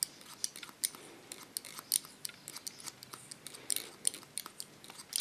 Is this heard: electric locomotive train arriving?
no